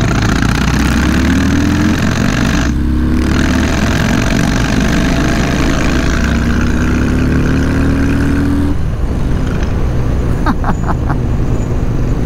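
A Harley-Davidson Low Rider S motorcycle engine runs loud and close, its deep idle swelling into rising revs twice before dropping back, with the throttle climbing and easing off again.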